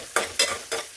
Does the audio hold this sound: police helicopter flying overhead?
no